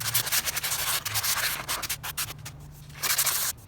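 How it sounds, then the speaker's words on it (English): A shoe rack being hand-sanded in a DIY restyling project, with close, steady rasping strokes in an uneven rhythm and brief pauses between passes. "it just needs a little sanding"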